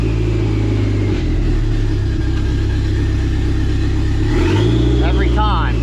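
A Dodge SRT-4's engine drones loudly at steady revs, then dips and climbs again as the car shifts into third gear, with the transmission holding rather than popping out.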